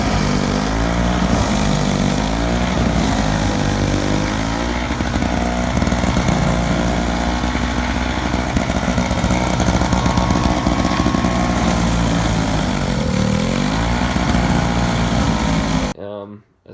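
A Cub Cadet 521E single-stage snow blower with a 5-horsepower engine and 21-inch auger runs close and loud. Its steady droning rumble wavers slightly in pitch before cutting off abruptly at the end.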